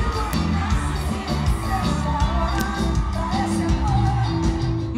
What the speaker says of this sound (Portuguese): Aplausos, gritos e palmas.